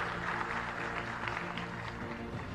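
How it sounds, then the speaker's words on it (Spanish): Applause for former US ambassador Wally Brewster at a Dominican Republic country-brand launch event, a steady wash of clapping from a crowd, faint and continuous throughout. "Pedir un fuerte aplauso"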